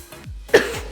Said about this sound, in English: Excuse me, sorry about that cough.